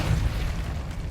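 A Depulso spell effect in Hogwarts Legacy on PS5, a short muffled boom-like burst with low rumble, over almost as soon as it starts.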